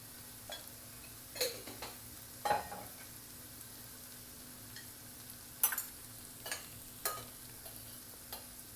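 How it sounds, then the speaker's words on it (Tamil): Turmeric, chili and coriander powders being stirred in a hot pan, with a faint low sizzle under scattered scraping strokes of a spoon against the pan, unevenly spaced and fairly close. "எல்லாத்தையும் ஆட் பண்ணிவிட்டு நல்லா ரா ஸ்மெல் போகிறது வரை வதக்குங்க"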